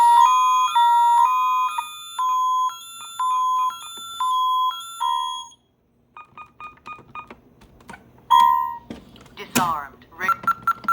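A VistaBoard security keypad beeps through a run of steady tone bursts. Then come a pause and scattered clicks and thunks, a short sharp alarm blip and more key beeps, all loud and close.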